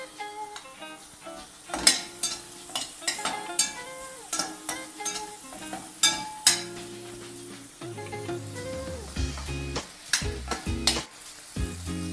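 Plenty of curry leaves spit and crackle in hot oil for a Malvani-style prawn curry, loud close sizzling with sharp pops and spoon stirring, a few clinks of utensil against the pan.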